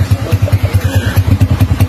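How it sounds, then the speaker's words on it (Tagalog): A Yamaha TMX 125 Alpha motorcycle with a Yutaka contact point pipe runs close by with a loud, steady rapid thumping exhaust beat. "Naging classic TMX 155 ang tunog nitong motor ni boss, ano?"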